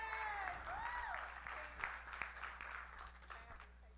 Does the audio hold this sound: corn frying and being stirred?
no